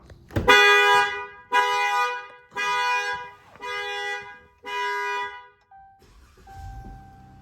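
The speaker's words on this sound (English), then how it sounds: "it's going to be difficult to hear because the alarm's going to be blasting" A Chrysler 300 car alarm honks in five long, loud, evenly spaced blasts, each a harsh buzzy tone, followed by a brief quieter chirp.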